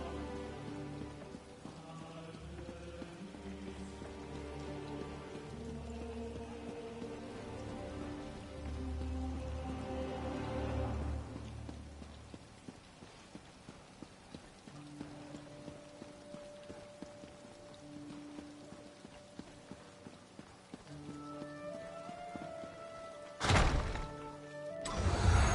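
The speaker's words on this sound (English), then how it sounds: "Oh, it's a rainy day." Rain falls in The Elder Scrolls Online, a steady patter of drops under ambient game music with a few sharp knocks and a louder burst near the end.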